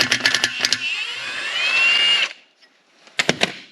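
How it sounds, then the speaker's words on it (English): Impact wrench spins out a head stud on a 1939 Caterpillar D4 diesel engine: a loud, close burst of rapid hammering, then a sustained whine for about two seconds, a brief pause, and another short rattling burst. "I can back it right out of there with the impact."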